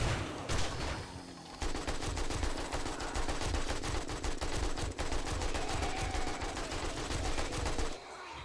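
Rapid automatic gunfire from weapons in the zombie survival game 7 Days to Die, dense overlapping bursts rattling almost nonstop for several seconds with no talking.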